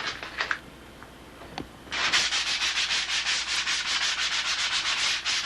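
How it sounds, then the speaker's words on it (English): A wood edge sanded by hand with fresh 220-grit sandpaper: a few light scuffs, then a steady run of quick back-and-forth rasping strokes, close and fairly loud, with no talking. "Get the edge sanded down nice and get brand new. In this case, I'll put 220 on here."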